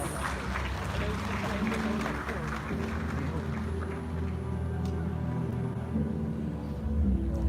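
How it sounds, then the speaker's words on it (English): Crowd applause greets a professor stepping onto the stage at a political gathering, a broad steady wash of clapping mixed with crowd murmur and low rumble, fairly distant and sustained throughout. "Let's welcome him with a loud round of applause."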